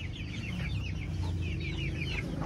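A flock of native chickens clucking steadily and close by, many overlapping calls forming a busy, continuous farmyard chatter.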